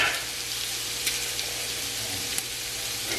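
Six ribs of chopped celery stalks hit a hot soup pot and sizzle steadily up close, a continuous frying hiss with a few faint stirring clicks and no voices.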